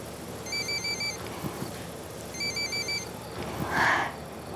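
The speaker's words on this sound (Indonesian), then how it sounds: "Ini ibunya Sekar telepon, Mak. Angkat saja." A mobile telephone ringtone chirps in two short repeated bursts in a quiet indoor room, with a soft shuffle and a brief rustle near the end.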